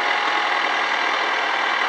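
A tractor engine in the video game My Summer Car drones steadily, a constant loud mid-pitched running hum with no breaks.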